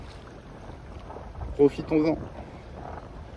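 A light 9–10 knot breeze blows around a Figaro solo racing sailboat on a calm sea, heard as a soft, steady wind rumble with a brief spoken phrase in the middle.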